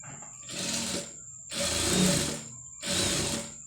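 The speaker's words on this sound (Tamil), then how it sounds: "இப்போ இதை வந்து கரெக்டாக அந்த பைப்பிங்கில் இல்லாமல் லைனிங்லேயே வந்து தையல் போடணும்." Sewing machine stitching piping onto a lining, three close, steady bursts of rapid mechanical whirring separated by short pauses, with no voices.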